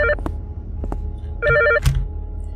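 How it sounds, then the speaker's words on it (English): Old telephone rings in a horror video game set in a closed burger place at night, two short bursts of rapid electronic trilling close by, separated by a quiet pause, with no voices. "Answer the phone."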